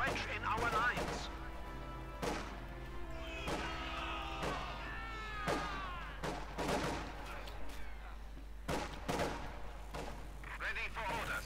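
Gunfire in a Company of Heroes 2 battle, with scattered shots and bursts mixed into game effects while a voice talks over much of it.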